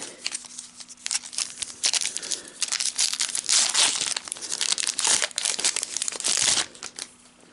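Tearing open the crinkly foil wrapper of a Pokemon Ultra Prism booster pack: close, loud crinkling and ripping that comes in irregular bursts for several seconds, then stops.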